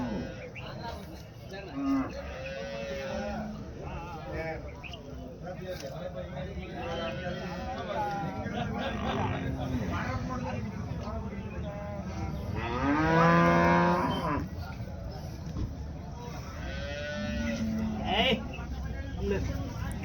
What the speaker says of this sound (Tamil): இது சனி எருமை தாங்க